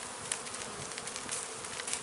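Honey bees buzz steadily right beside their hive, a close, continuous swarming drone with small swells in intensity throughout.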